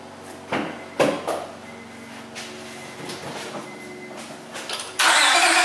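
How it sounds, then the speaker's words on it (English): A Honda Accord with a slight miss at idle cranks with a few short whirring bursts, then catches and starts, its engine noise rising abruptly to a steady loud running sound at the end. "I'm going to hop in there and crank it"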